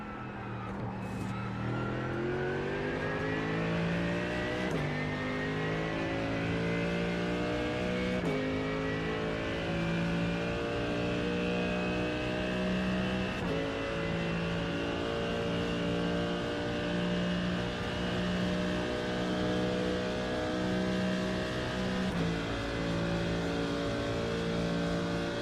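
A GT3 race car engine in the iRacing sim revs hard and steadily at Spa, its pitch climbing and dropping with each gear shift over roughly half a minute of loud, continuous engine noise with no voices.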